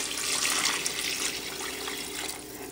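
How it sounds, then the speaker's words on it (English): Six cups of water poured into a pot of mixed vegetables for a vegan curry, a steady close rushing splash that runs without a break. "And that's 6 cups of water."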